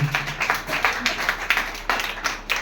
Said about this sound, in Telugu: దేవుడికి గట్టిగా చప్పట్లు కొట్టి కనిపించండి.